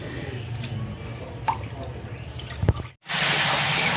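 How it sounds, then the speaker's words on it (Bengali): Water trickles and splashes steadily while goat meat is rinsed in a bowl, with a brief clatter, then a louder rush of running tap water near the end. "মাংস বাছা হয়ে গেছে, খাসির মাংস, এবার ধুয়ে নিচ্ছে"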